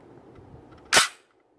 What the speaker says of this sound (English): So I hit the mag release.